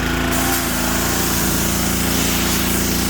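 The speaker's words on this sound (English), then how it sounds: "finally got his pressure washer up and going" A pressure washer runs steadily while cleaning a wooden deck in Cincinnati, Ohio, giving a loud, continuous engine drone with a hissing spray layered on top, unbroken for the whole stretch and with no voices.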